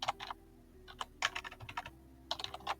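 Irregular bursts of computer keyboard typing and clicks, close and crisp, with short pauses between clusters of keystrokes.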